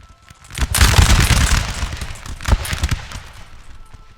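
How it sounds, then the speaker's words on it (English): A musket volley in Napoleon: Total War, with a dense crackling burst of many shots fired together, then a second sharp crash of gunfire a moment later, loud and close, fading into rumbling echoes. "And that volley was enough to break the French"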